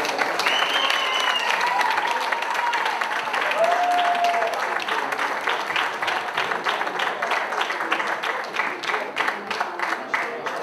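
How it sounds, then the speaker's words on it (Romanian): An audience at a national amateur artists' festival applauds to welcome a female singer onto the stage, sustained loud clapping from a crowd that runs the whole time, with a few faint tonal sounds early on. "Aș vrea să o primim în aplauze pe colega și prietena noastră"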